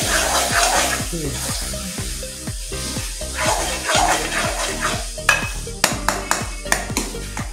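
Minced meat keema with garam masala frying in a pan, a steady sizzle under repeated scraping and stirring strokes, with sharp clinks of a spoon against the pan toward the end.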